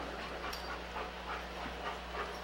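A dog pants in quick, soft rhythmic breaths at a Rotary Club demonstration, faint against a steady low hum in an indoor room.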